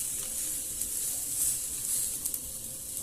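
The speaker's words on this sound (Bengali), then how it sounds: "এবার তাওয়ার মধ্যে দিয়ে দিচ্ছি।" Paneer tacos on roti sizzle on a hot tawa, giving a steady, fairly quiet frying hiss that holds evenly throughout, with a few faint crackles.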